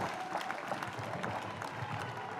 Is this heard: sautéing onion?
no